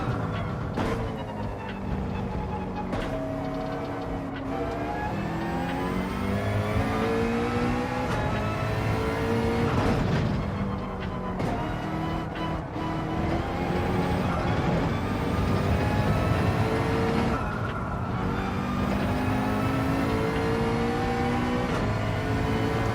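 A Porsche race car in Gulf livery in Gran Turismo 7 drives continuously, its engine note rising and falling through repeated gear changes, loud and steady throughout.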